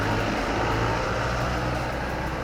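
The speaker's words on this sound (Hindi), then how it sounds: "बारिश में देखो गाड़ियाँ इधर से आ रही है" Cars and other vehicles pass along a wet road in steady rain, a continuous broadband hiss of tyres and rainfall over a low engine rumble, with no voices.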